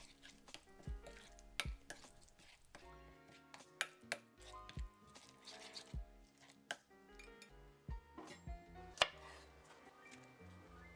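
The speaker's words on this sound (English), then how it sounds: "When chopping the Brussels sprouts, keep in mind that the smaller they are, the quicker they will ferment." Brussels sprouts are chopped on a board for kimchi, a run of sharp, close knife taps in an irregular rhythm with light clinks between them, no voice.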